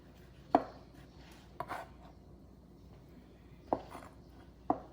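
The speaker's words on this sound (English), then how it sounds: "Then you chop them." A knife chops ginger and green onions on a board for a ginger green onion sauce, four sharp, well-spaced thuds standing out over a quiet background, close and unaccompanied by speech.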